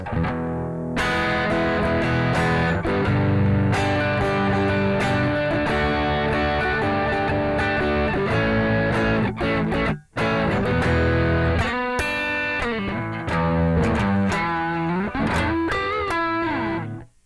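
Electric guitar played through a Keeley Aria pedal with the tone knob near 10 o'clock, a gritty overdriven riff of chords and single notes, loud and continuous with one brief pause midway.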